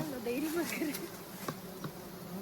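Bees hum around a wild honeycomb on a moringa tree, a faint, wavering buzz with insects passing close, while people talk nearby.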